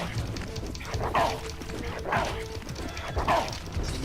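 Dogs bark on a farm in the video game Soul Reaver 2, three yelping barks spaced about a second apart, moderately distant over a steady game ambience.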